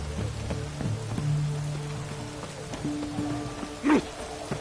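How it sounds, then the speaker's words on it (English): Steady rain pattering on surfaces in The Witcher 3, with a constant low hum and a few scattered taps and clicks. "It's raining."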